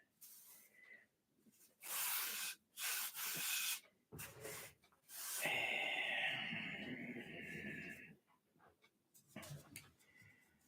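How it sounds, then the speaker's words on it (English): Sandpaper rubbing over a model aircraft cowl, the cowl made as two separate pieces that are not glued together, in short scratchy strokes: several brief bursts, then one longer steady pass, close and fairly quiet. "Piece of sandpaper on it, get them fitted nicely. Maybe sand the sides because these don't get glued together."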